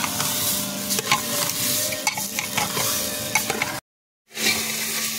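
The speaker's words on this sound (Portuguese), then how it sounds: "Agora eu vou fritar ela." Chicken gizzards seasoned with vinegar, herbs, paprika and a bay leaf fry in a pressure-cooker pot, giving a steady close sizzle with a few utensil scrapes and clinks, then a brief total silence before the frying resumes.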